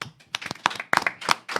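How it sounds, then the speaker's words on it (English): Audience clapping for a deacon at a church gathering, scattered and uneven individual claps from a modest crowd, fairly close, with irregular bursts and short gaps. "Let's give the deacon a round of applause."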